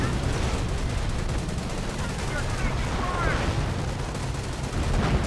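Dense gunfire crackles throughout a Company of Heroes battle as Rangers with submachine guns cut down Grenadiers, with rapid bursts and overlapping shots under a constant wash, and a voice talks over it.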